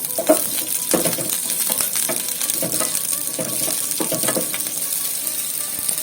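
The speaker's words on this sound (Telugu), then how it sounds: "ఇప్పుడు కట్ చేసి పెట్టుకున్న పచ్చిమిర్చి వేస్తున్నానండి. ఇవి కొంచెం దోరగా వేయించుకుందాము." Chopped green chillies crackle and sizzle in hot oil for a coconut chutney, with a steady fry broken by several louder bursts of spatula stirring against the pan, close and without speech.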